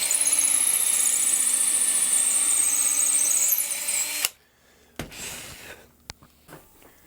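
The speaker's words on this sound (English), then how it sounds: "I've got a fish 1/4-inch brad point bit in my drill, and we're just going to drill a hole way out here on this end" A drill fitted with a 1/4-inch brad point bit bores a hole near the end of a guitar body blank, whining steadily at close range for about four seconds before cutting off, followed by a few quiet clicks and handling bumps.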